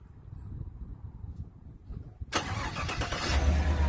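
A truck engine that had broken down cranks briefly after a quiet stretch and then catches into a loud, steady idle up close.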